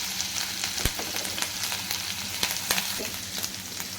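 Garlic paste, ginger paste, cumin and chopped green chillies sauté in hot oil, a continuous close sizzle broken by quick crackles and spatter pops, with no talk.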